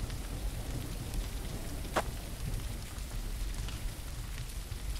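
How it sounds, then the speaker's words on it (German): Rain falling in the video game Territory, a steady, soft hiss of drops running on without pause, fairly quiet and with no voices. "Hier regnet."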